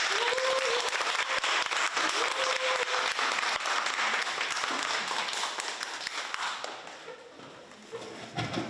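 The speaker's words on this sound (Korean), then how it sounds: "뜨거운 박수로 맞아주세요." An audience at a university humanities lecture applauds warmly to welcome a speaker, continuous loud clapping that slowly thins out toward the end.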